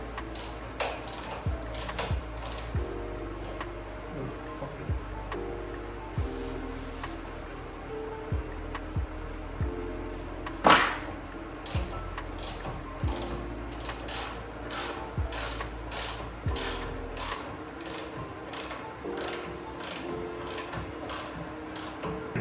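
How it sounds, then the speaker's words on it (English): A ratchet wrench tightens nuts on a Nissan 350Z during an LS1 engine swap. It gives repeated clicking ratchet bursts in irregular runs, close and moderately loud, with a sharp metallic clank near the middle. "So we're going to go ahead and tighten them up real quick."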